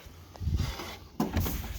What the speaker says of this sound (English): It's just a sliding door.